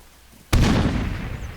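A single sharp grenade blast erupts in a video game, loud and close, with a sudden broadband boom that rolls into a long decaying rumble.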